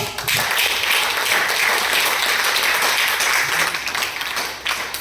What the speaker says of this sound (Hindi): मैं एक जोरदार ताली से उनका स्वागत करना चाहती हूँ